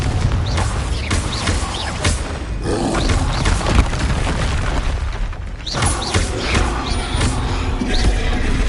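A fire spell in Hogwarts Legacy on PS5 bursts into a loud, continuous roar of booming explosions, thick rumbling blasts layered over one another with a brief dip before the din surges back.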